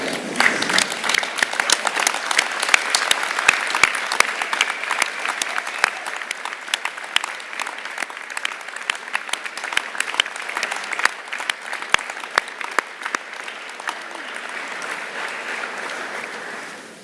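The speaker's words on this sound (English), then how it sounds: "rapturous applause." Sustained applause from a large graduation ceremony audience, dense and continuous for many seconds, swelling early, then settling to a steady patter and tapering off at the end.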